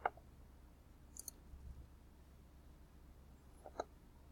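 Two crisp computer mouse clicks, one at the very start and another near the end, sounding close and quiet over a faint background hum.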